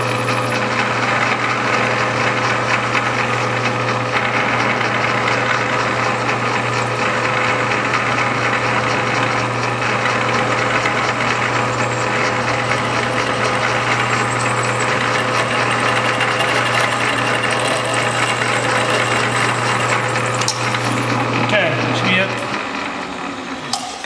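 A machine drills a dowel pin hole in a Kohler V-twin Command engine crank gear; a loud, steady, close motor drone with a constant hum runs for over twenty seconds, then winds down at the end.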